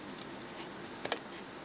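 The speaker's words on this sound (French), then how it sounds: "vous coupez votre fermeture éclair" Scissors cut through a zipper for a sewn pouch, a few faint, close snips with a quick double snip in the middle, set against quiet room tone.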